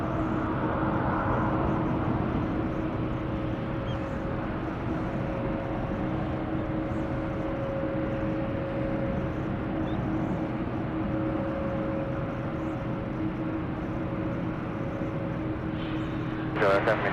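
Boeing 787 Dreamliner engines drone as the airliner departs San Francisco, a steady broad roar with a sustained tonal whine that stays even throughout, moderately loud, ending with a brief louder rustle.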